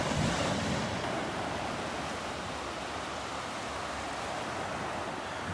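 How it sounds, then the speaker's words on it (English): Small ocean waves break steadily on a Gulf beach at Delnor-Wiggins, a continuous close wash of surf with light wind noise across the microphone and no voices. "Getting closer to these little waves that are breaking."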